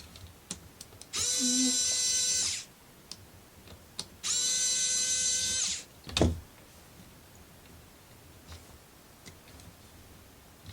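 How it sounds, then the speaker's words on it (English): An electric screwdriver drives a screw into a plastic marble run kit, two sustained whirring bursts of about one and a half seconds each, close and fairly loud, followed by a single sharp knock, with no talking. "Let's get my extension out with the screwdriver."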